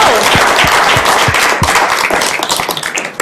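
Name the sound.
audience applause for the presenters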